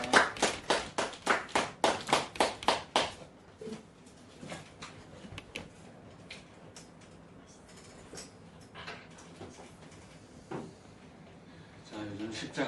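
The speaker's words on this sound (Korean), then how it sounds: "영광의 박수 돌려드립니다" Church congregation breaking into a short burst of rhythmic clapping, about a dozen loud, evenly spaced claps over three seconds, then fading into quieter room noise with scattered soft knocks and murmurs.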